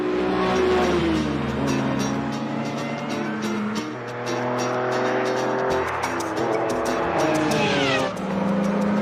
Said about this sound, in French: Ferrari, c'est monstre, hein?